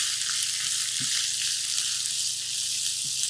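Corn and capsicum sautéing in a garlic tempering give a steady, even sizzle, with a few soft stirring clicks breaking through near the start and end.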